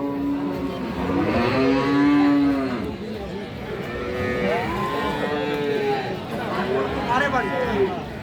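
Dairy cows and calves of an improved milking breed lowing repeatedly at a busy cattle market in Aftabganj, loud, drawn-out moos overlapping one another over a constant murmur of a crowd.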